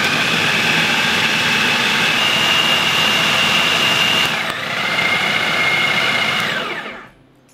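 A Philips HR7627 food processor runs steadily at speed setting 2, a loud, continuous high-pitched motor whine that holds for several seconds, dips slightly midway, then cuts off abruptly near the end.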